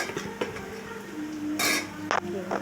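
A spoon clinks and scrapes against a pan while potato fry is stirred, with a few sharp metallic knocks over a low background hum.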